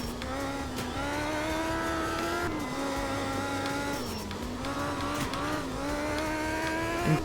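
A Russian rally car engine in a video game drones loudly and steadily, its pitch rising and dipping as the throttle shifts, with a rushing, airy roar.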